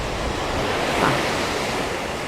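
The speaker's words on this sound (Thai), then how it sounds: "เป็นบรรยากาศทะเลแบบนี้" Surf rolls in steadily at Phayun beach in Ban Chang, Thailand, a shore near an industrial estate. Wind blows across the microphone in a continuous close wash of noise, and no one speaks.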